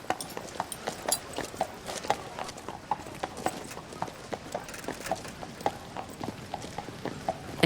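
Hooves of a young black horse clip-clop at a steady walking rhythm on a street as King Christian X rides his daily promenade through occupied Copenhagen, the evenly spaced beats moderately close over a faint background hiss.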